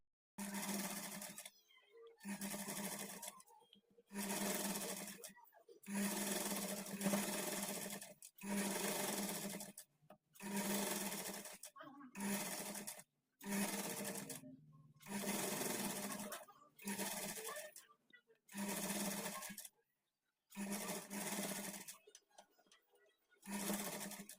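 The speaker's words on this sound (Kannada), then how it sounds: "ಮಿಷಿನಲ್ಲಿ ನೀವು ದೊಡ್ಡ ಸ್ಟಿಚ್ ಇಟ್ಕೊಂಡು ಸ್ಟಿಚ್ ಮಾಡ್ಕೊಳ್ಳಿ" A sewing machine runs in about a dozen short bursts of fast, even stitching as a hemming strip is sewn onto a blouse neck with long stitches, each run separated by a brief pause, loud and close.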